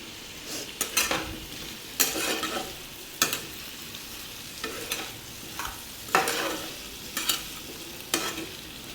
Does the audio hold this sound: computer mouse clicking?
no